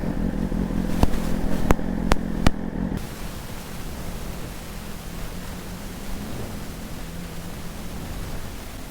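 A motorcycle with an aftermarket muffler idles with a steady low rumble close by at a vehicle inspection site, a few sharp clicks near the start, then a constant noisy hum.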